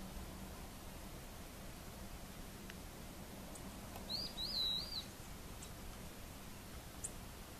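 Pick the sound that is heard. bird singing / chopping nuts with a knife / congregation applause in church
bird singing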